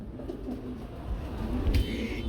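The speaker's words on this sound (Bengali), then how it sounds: "একজোড়া একজিবিশন কবুতর রয়েছে" Soft, low cooing of exhibition pigeons nearby, a few rounded murmuring calls over faint background noise.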